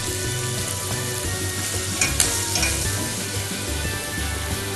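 Diced carrots and onions fry in a pan with a steady, close sizzle, joined by a few clinks and scrapes of stirring partway through.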